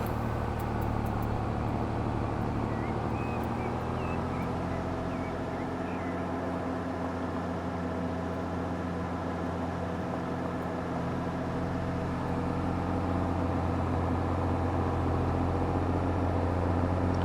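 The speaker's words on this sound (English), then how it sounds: "I do love the sound of this tractor." A tractor engine in the Farming Simulator video game idles and runs with a steady low drone and layered humming tones, continuous and unchanging, heard alone without talk.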